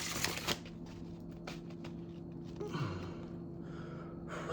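A quick riffle of cards being shuffled at the start, close by, followed by quiet room tone with a faint low hum.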